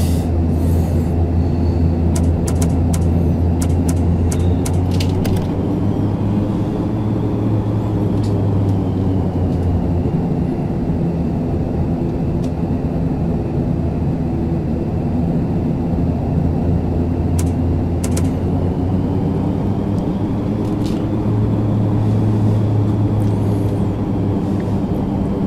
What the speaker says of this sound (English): we're taking off on runway 4, so we will now engage in taxi.